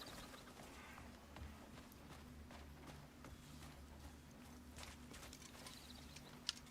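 Horse hooves clip-clop at a steady riding pace in the video game Crimson Desert, faint beneath a low hum of game ambience and music, with no talk.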